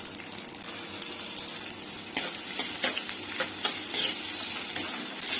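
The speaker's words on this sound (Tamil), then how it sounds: "முதல்ல வெங்காயம் தக்காளி வதக்கி எடுத்துக்கலாம்" Onions and tomatoes stir-fried in a pan for a green manathakkali kai kuzhambu, with a steady close sizzle and repeated scraping, clinking stirs that grow busier partway through; no talking.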